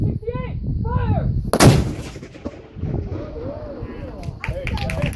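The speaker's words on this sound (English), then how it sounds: "We just put 1 pound of gunpowder in that gun" A historic cannon loaded with one pound of gunpowder booms once at Fort Delaware on Pea Patch Island, a single loud outdoor blast with a rolling echo, while people talk and a voice calls out before and after.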